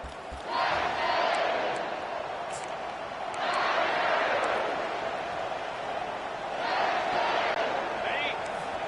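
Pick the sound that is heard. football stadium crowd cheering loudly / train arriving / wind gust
football stadium crowd cheering loudly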